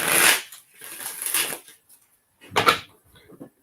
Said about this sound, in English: Gonna get these shuffled up a little bit for you,